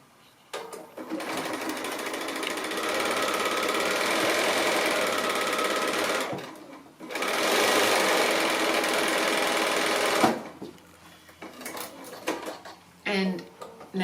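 A sewing machine stitches a quilt block seam in two long bursts of steady, fast mechanical whirring, close and loud, with a brief pause between them and quiet handling afterward.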